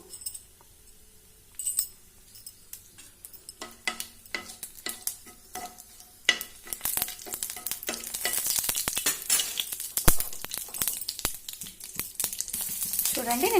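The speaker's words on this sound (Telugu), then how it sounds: "కొంచెం పోపు వేగిన తర్వాత మిగతా ఇంగ్రీడియంట్స్ అయితే వేసేసుకుందాము" Tempering spices frying in hot oil for a palak soya curry: sparse metal clinks and stirring scrapes at first, then a close, steadily building crackling sizzle that grows louder toward the end.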